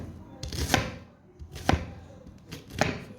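A homemade knife chops banana flower on a board in three crisp, evenly spaced strikes, close and clear, with no talking.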